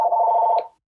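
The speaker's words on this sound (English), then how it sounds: "somebody's phone's ringing." A single electronic phone ring, a steady warbling tone lasting just over half a second before cutting off, fairly loud with no voices.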